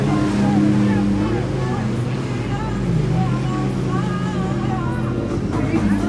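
Boat engine droning steadily while cruising on the water at a marina, a constant low motor hum with wash and wind, close and loud, with people talking over it.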